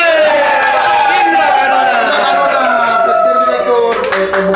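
A studio audience claps to welcome a special guest, a company president director, on a talk-show podcast set. The clapping is steady and sits under continuous talking, with a few sharper claps near the end.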